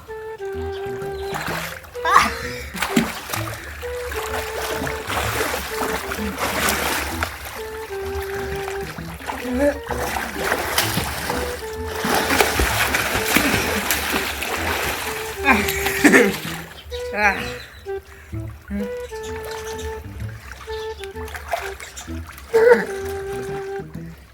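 Children splashing and wading in rainwater collected in a field near a house under construction, with repeated splashes and trickles throughout, and voices of kids and an adult talking over the water.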